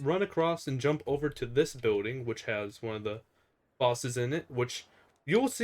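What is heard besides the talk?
None of the usual background noises is heard.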